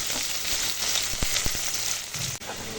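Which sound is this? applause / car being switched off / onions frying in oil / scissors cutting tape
onions frying in oil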